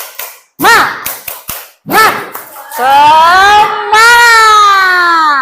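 A school class performs a 'tepuk semangat' rhythmic clap chant: a few sharp, close claps mixed with loud shouted chanting, then many voices hold a long sustained group cry.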